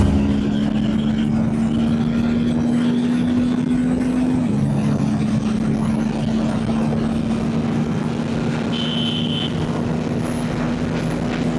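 A car cruising and speeding up on an open highway, a steady engine drone with a held tone that dips briefly partway, continuous and fairly close, with road rumble and no talking.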